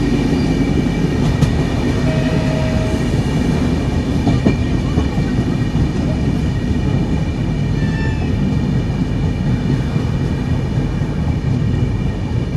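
Agniveena Express train pulling into Panagarh station, heard from inside a chair car: a steady, loud rumble of wheels and carriage noise runs unbroken throughout, with faint high tones and occasional light clatter on top.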